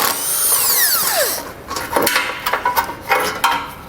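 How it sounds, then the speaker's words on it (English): Socket tool, likely a ratchet or impact driver, pulling bolts from a vehicle base plate mount; brief clicking and whirring bursts in an irregular rhythm, close and moderately loud, with no talk. "And get all these bolts pulled out."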